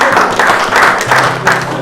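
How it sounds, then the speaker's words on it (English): Close, loud clapping from a small group of people, uneven and bunched into irregular bursts, with a low background hum and no talking. "Clap."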